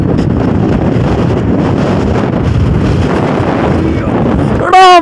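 Strong wind buffets the microphone on an exposed hilltop in Idukki, a loud continuous roar and rumble throughout, cut off by a sharp tonal beep at the very end.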